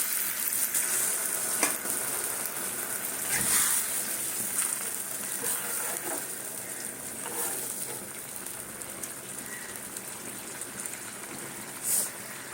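Potatoes and pointed gourd are stir-fried in a pan, giving a continuous close sizzle with intermittent scraping and clacking stirs, plus a brief louder clatter near the end.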